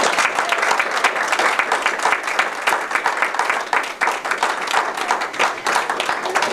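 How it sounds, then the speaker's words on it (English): An audience at a Toastmasters speech contest gives the contestants a round of applause, dense steady clapping throughout with a few brief dips, close and loud. "Let's have a round of applause for all of our contestants"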